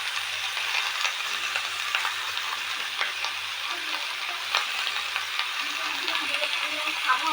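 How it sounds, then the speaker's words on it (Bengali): Young jackfruit fries in a pan of hot oil, giving a continuous close sizzle with small crackles and occasional clinks of stirring throughout. "এঁচোড়টা ভালো করে ভাজবো,"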